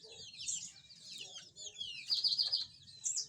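A caged domestic canary sings continuously, rolling high-pitched trills and warbling runs with a fast, buzzy rattling passage near the end, close and clear with no talk.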